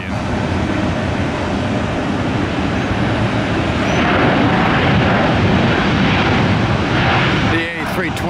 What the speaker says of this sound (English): The A321neo, the new machine with the new first class cabin by our pals at Delta